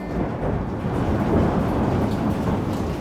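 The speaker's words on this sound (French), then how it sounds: "Alors ça, c'est l'orage qui confirme qu'il y a plein de schémas" Thunder from a thunderstorm rolls as a loud, steady, broad rumble with no distinct claps, filling the whole stretch without speech.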